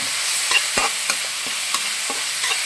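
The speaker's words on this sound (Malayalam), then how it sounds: "ഇനി നന്നായി ഇളക്കുക. നന്നായിട്ട് അങ്ങോട്ട് ഇളക്കി കൊടുക്കുക." A spoon stirs kappa biriyani, cassava with beef, in a hot pan, giving a series of scraping knocks at an uneven rhythm over a constant close sizzle of frying.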